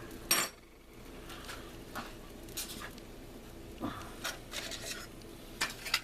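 Metal clinks and scrapes of a spoon against a Swiss Army metal canteen cup, several light taps spread out over quiet background.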